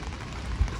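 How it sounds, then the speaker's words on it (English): Steady rain falls in a wet outdoor setting at Osaka Castle in Japan, a soft continuous patter with one slightly louder low thump midway, no voices present. "Beautiful rainy day."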